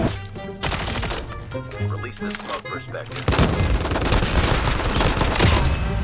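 Rapid gunfire bursts and booms from Call of Duty Mobile battle royale play, loud and dense, with sporadic shots early and then a sustained heavy volley, while a player talks over it.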